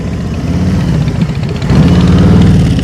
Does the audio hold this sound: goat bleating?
no